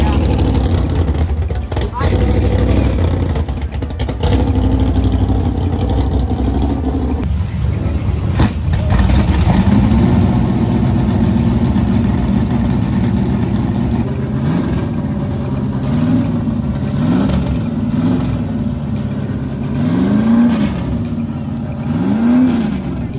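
Small high-pitched nitro RC car engines rev up and down repeatedly, loud and close, whining in rising and falling bursts, with people talking over the noise.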